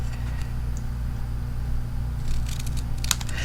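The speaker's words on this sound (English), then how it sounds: "so I'm going to cut it off about here." Scissors snipping through paper card while trimming a birthday card, a few short crisp cuts near the end over a steady low room hum.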